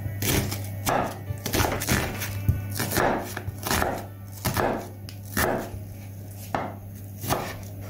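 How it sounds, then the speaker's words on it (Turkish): Dry onions being chopped with a knife on a wooden board, a close, fairly regular series of firm knocks roughly every half second, with no speech. "Yarım lahana için 2 tane kuru soğan kullanıyorum ve yemeklik doğruyorum"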